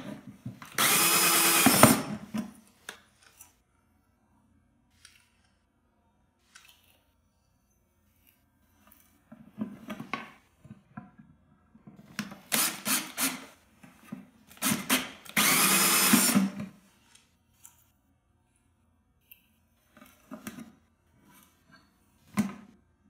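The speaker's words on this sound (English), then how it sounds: "making sure that you keep the edge of the hole saw at least a half an inch away from the edge" Hole saw on a power drill cutting holes for a Kratky hydroponic grow setup, several loud whining bursts of drilling separated by quiet gaps and light handling noise, close up with no speech.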